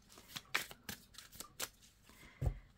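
Tarot cards are shuffled and drawn for a reading, giving a string of soft riffling swishes and flicks with a firmer slap of a card being laid down near the end, close and quiet with no talking.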